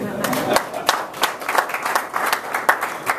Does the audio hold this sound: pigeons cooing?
no